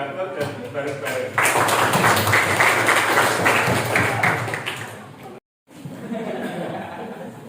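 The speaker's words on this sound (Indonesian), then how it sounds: "Tepuk tangan sing banter dan bareng-bareng." Classroom audience of students applauding together, a loud sustained burst of clapping that starts abruptly, runs for about four seconds, then breaks off and resumes more softly, with some chuckling mixed in.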